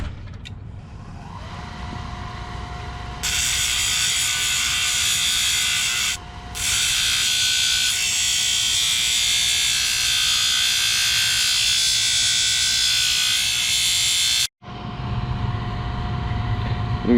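A rock is ground on a 120 grit wheel, a loud rasping grind over a steady motor drone. It swells as pressure is applied, briefly dips, then cuts off and resumes near the end.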